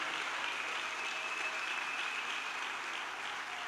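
A church congregation applauding to acclaim the king during a sermon, a sustained, dense wash of clapping from many hands, steady and fairly loud throughout.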